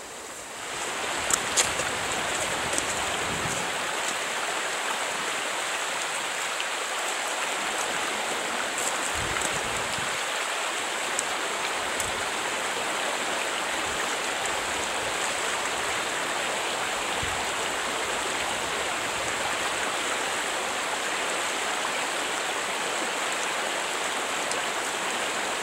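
Stream of water flowing over sand, a continuous close rushing and gurgling wash that stays steady throughout with no talking.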